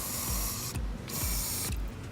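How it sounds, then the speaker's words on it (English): Sensor cleaner sprayed from an aerosol can onto a wire near a car's MAF sensor, in three loud, hissing bursts that stop briefly between them, with no talk. "I'm gonna spray some on there."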